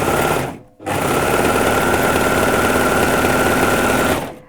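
A BabyLock Ovation serger stitches steadily through layers of fabric, loud and close, with its rapid mechanical whirr running continuously after a brief pause near the start.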